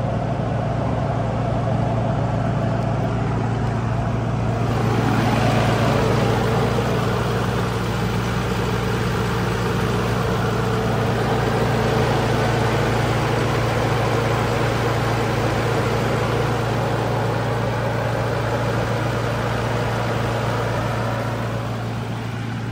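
A 6.4-liter diesel in a 2008 Ford F450 Lariat idles with a loud, constant low hum and a steady clatter that runs unchanged for over twenty seconds, with no talking.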